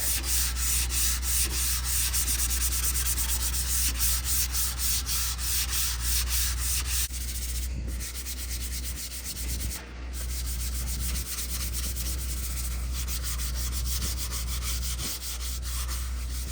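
Oscillating sander with 240-grit paper working over a truck bumper on a Ford F350 Super Duty, a loud continuous buzzing rasp with rhythmic rubbing pulses, close and steady, with brief dips as the pad shifts.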